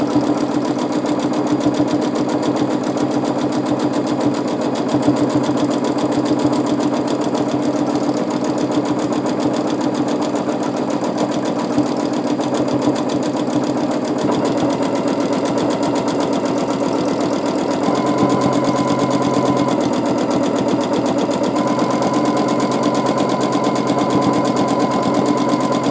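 A sewing machine hums loudly and continuously while free-motion quilting overlapping swirl patterns, its motor whirring with a rapid needle chatter and slight shifts in speed, no voices present.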